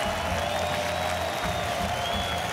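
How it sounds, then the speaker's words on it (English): At the Rio 2016 Olympic men's rugby sevens medal ceremony, a large stadium crowd applauds and cheers Great Britain's bronze-winning team, a continuous distant wash of clapping and voices under faint announcer talk. "special cheer for Great Britain as they get up"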